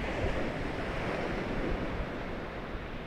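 Sea waves wash onto the beach at Goring at high tide, a steady broad roar of surf with gentle swells, heard alone with some wind buffeting the microphone.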